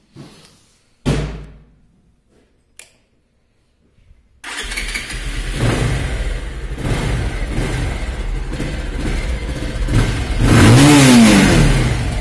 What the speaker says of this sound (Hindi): आपको एक बार स्टार्ट करके दिखाना चाहूँगा बाइक।